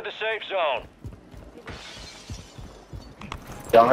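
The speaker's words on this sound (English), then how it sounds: "I broke that glass." Glass shatters in the video game Fortnite: a bright, crashing break near the end with tinkling debris, after stretches of talking and game sounds.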